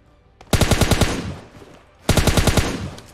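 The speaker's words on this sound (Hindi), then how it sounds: "ये देखो मैंने गोली चलाकर उस बग्गी वाले बंदे को बुलाया" Two loud bursts of automatic gunfire in PUBG Lite, each a rapid string of about eight shots, separated by a short quiet gap.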